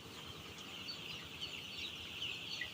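Chickens and chicks on a poultry farm, with a dense, steady chorus of high peeping and cheeping and a low background rumble, faint and continuous with no single bird standing out.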